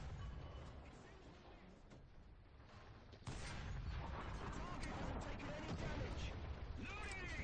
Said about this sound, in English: Let's try some armor piercing rounds.